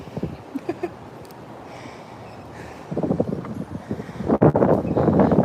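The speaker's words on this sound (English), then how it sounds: "Yeah, it's windy and cold here." Gusty outdoor wind buffets a microphone near a water fountain, rumbling low and uneven and swelling louder in the second half, with scattered knocks and rustles.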